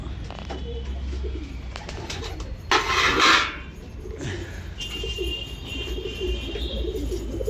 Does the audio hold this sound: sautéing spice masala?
no